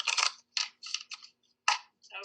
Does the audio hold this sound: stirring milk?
no